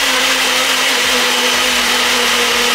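An electric blender whirs steadily and loudly, mixing oat pancake batter in a French home kitchen, its motor holding one even drone with no voices.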